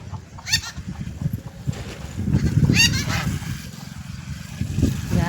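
Shrill, rasping calls of young birds sound repeatedly in short bursts over a busy, noisy outdoor background, close by.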